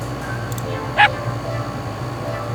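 A dog in a video game gives one brief, sharp yip or bark in a dog park setting, set against a quiet, steady game ambience.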